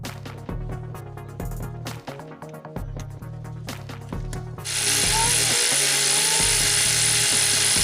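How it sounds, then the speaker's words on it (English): Spark plugs removed from a 2002-2010 Mercury Mountaineer 4.6L V8 using an 8-inch extension and 5/8 spark plug socket, with rapid close ratchet clicking in bursts, then a loud steady hiss-like noise takes over. "I'll be using an 8-inch extension with a 5/8 spark plug socket to remove the spark plugs."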